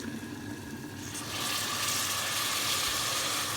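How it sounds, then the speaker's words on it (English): Hot water is poured into a pan of cooking cashew nut masala, and partway through a steady sizzle swells to a louder, rushing hiss that holds to the end. "I'm going to add a little bit of water."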